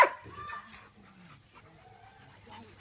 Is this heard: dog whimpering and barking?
yes